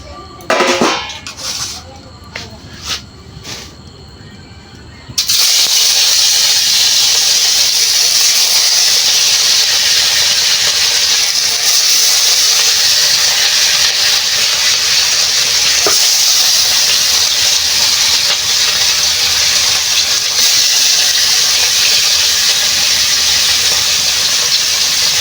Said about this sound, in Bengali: মাছটাই ভাজি, তেল গরম হয়ে গেছে